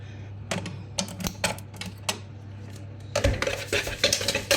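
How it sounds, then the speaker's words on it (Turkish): A utensil stirring pancake batter with sugar in a bowl clicks and taps unevenly against the sides, quicker toward the end, with no talking. "Önce tık tık tık tık tık karıştırıyorum."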